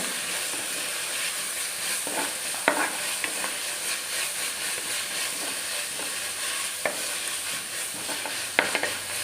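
Onions and tomato sautéing in a pan for a Kerala-style crab roast, a steady close sizzle broken by a few sharp spoon scrapes and clinks against the pan, with no talking.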